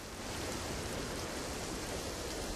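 Heavy monsoon rain pours down in Gujarat, a dense, steady, broadband hiss of downpour with no pauses, uniform and unbroken, faint in level but filling the whole scene with no voices.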